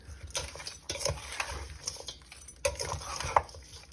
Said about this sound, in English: I'm just going to mix the black pepper with the Banese seasoning together with our meat